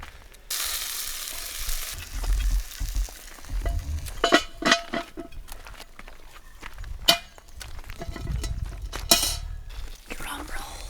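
A camp oven is handled while food cooks at a Margaret River campsite: scattered metallic clanks and scrapes over a soft sizzle, with sharp knocks near the middle and a voice talking at times.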